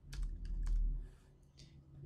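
Several quick key presses on a computer keyboard while a Windows command is entered, sharp clicks in a loose burst over a low background hum, close and fairly clear with no talking.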